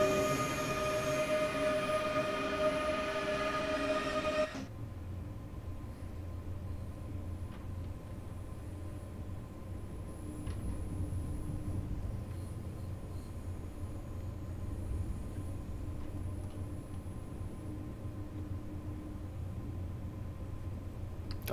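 ICE T BR 415 train pulling into Dresden Hauptbahnhof at low speed in Train Sim World 5: a loud cab alarm tone cuts off, leaving steady rolling rumble and wheel noise on the rails, with no voices.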